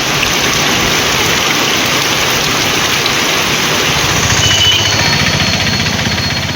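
Heavy rain with hail in Tamil Nadu pours down in a dense, steady roar, loud and close, with constant drumming on surfaces and no voices.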